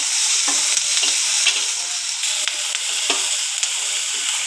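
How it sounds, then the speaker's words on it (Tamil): Onions fry with curry leaves in a hot pan, a steady loud hissing sizzle with occasional soft scrapes of a stirring spoon, close up and without talk. "வெங்காயத்தை நல்லா வதக்கிக்குவோம்"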